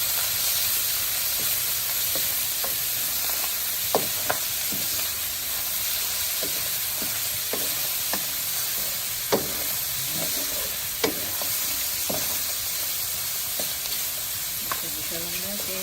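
Onion and tomatoes sautéing in a pan for ginisang pechay, a steady loud sizzle running throughout with scattered clicks and scrapes of stirring.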